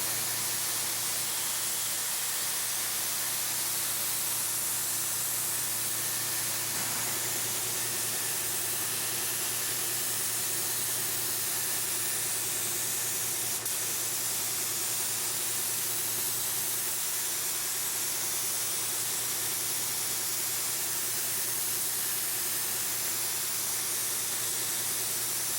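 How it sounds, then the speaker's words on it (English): A spray gun laying down an EkoPoly finish coat during a cross coat, a continuous steady hiss with a faint underlying hum that holds level for the whole stretch, close and unbroken, with no talking. "We're going to keep the spray gun going the same speed, the same overlap."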